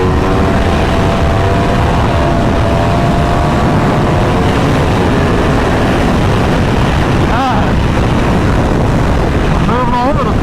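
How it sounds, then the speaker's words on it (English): An Aprilia RSV4 motorcycle engine drones during a wheelie, loud but heavily smothered by roaring wind buffeting on the microphone, with a voice briefly heard over it. "let's try this wheelie out again"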